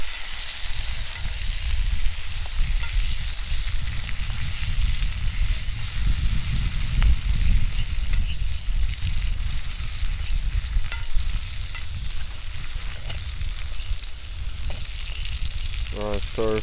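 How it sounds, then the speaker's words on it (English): Food stir-fried in a pot over an open fire outdoors in the hills, a loud continuous close sizzle and crackle with scraping stirs, steady throughout with faint background voices near the end. "Stir fry them."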